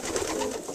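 Breeding pigeons coo softly in a loft, one brief low murmuring call close by and faint, with no talk over it.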